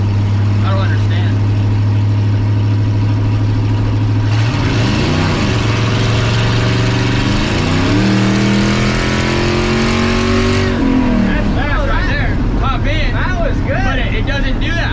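A cammed 5.3 LS V8 swapped into a Ford Ranger idles loudly, then revs up hard in several rising pulls with a raspy exhaust roar before dropping back to idle, with people talking over it.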